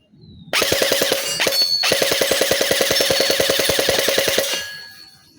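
A JingJi SLR V5 toy gel blaster with a metal gearbox fires a single sustained full-auto burst of about four seconds. The shots come in a rapid, even mechanical rattle, loud and close, with no talking.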